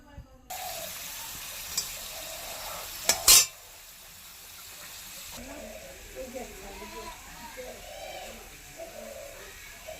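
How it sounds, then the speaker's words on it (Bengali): Potatoes fry in a pan in a village home kitchen, giving a steady close sizzle with a brief sharp clatter partway through, and a person talks over the frying in the second half. "তো সেজন্য একটু আলু ভাজা করে নিচ্ছি আর উনুনে ভাত বসিয়েছি।"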